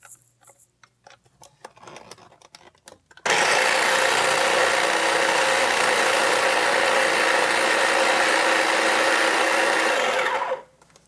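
An electric mixer mashes ripe bananas for banana bread, whirring loud and steady for about seven seconds after some quiet handling noises, then cutting off abruptly.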